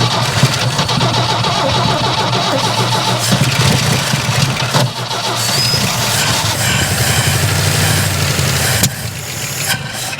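Vintage GMC C30 dump truck, sitting 30 years with a freshly fitted carburetor, cranking and catching, its engine running rough and loud up close for several seconds with a brief stumble near the end.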